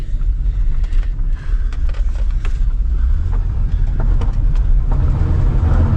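Honda V6 car on the move with a worn transmission, steady close engine drone and road rumble, moderately loud and continuous without talk.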